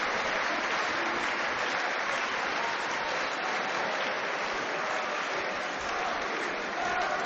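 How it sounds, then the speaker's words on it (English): Boxing fans at York Hall keep up a long, even round of clapping, a thick wash of hands that holds steady the whole time without any voices standing out. "And that's the applause of a York Hall crowd"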